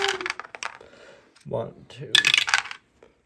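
Several injury dice clattering onto a table during a Necromunda tabletop game, a couple of quick rattling bursts between short bits of a person counting aloud.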